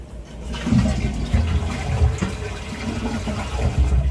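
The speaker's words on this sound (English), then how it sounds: "that's the toilet flush I just did there," A toilet flush drains steadily through a short span of pipe with about three 90-degree turns, a continuous low rushing gurgle of water that stays strong for the whole stretch.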